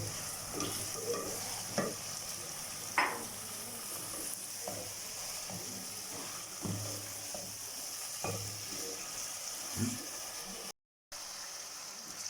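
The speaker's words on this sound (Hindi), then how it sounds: "चिकन को मैंने 2 से 3 मिनट तक फुल फ्लेम पर अच्छी तरह से भूना है" Chicken pieces sizzle and fry steadily in a pan over a full flame for achari chicken, with occasional scrapes and stirring clinks of a spoon against the pan; no talking.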